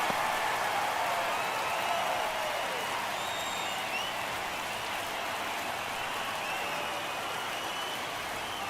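Crowd in an MLB The Show baseball video game cheering during an at-bat, a steady, dense roar of many voices and applause that holds at an even level throughout.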